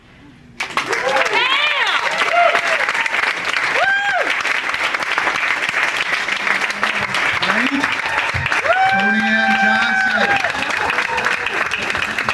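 After a literary reading, a live audience breaks into sustained, loud applause that continues steadily throughout, with voices calling out and speaking over it.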